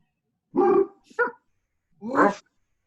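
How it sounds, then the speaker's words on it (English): A big dog barks twice nearby, a deep loud bark with a short yelp right after it, then a second bark about a second later. There is no talking. "Big dog."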